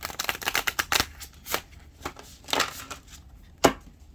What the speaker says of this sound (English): get the card shuffled.